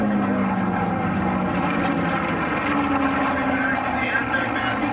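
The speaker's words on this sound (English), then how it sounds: "There's Speedball Alice being flown by Rob Gordon." A racing airplane at the Reno air races roars past in a continuous loud propeller and engine drone with a slowly shifting pitch as it passes. An announcer's commentary runs over the engine noise.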